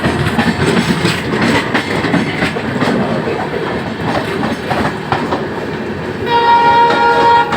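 Passenger train rolling in near Delhi station, loud and close throughout, with steady rumble and repeated wheel clacks, then a sustained horn-like tone rising near the end.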